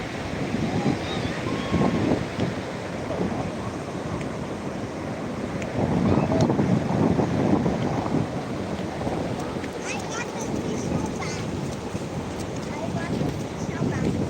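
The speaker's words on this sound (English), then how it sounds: "Ah, the waves." Ocean waves washing onto a beach on a cloudy day, with steady wind buffeting the microphone, a continuous rushing surf that swells in the middle, people talking faintly underneath.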